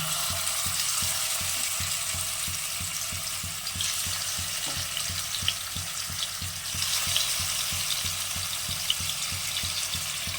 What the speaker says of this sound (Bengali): আর মাছটা ভেজে নিচ্ছি